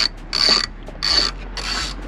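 A Cobalt ratchet wrench clicks in three loud, close bursts of rapid ratcheting, each about a third of a second long, with short pauses between, while the bumper is being removed from an Audi A4.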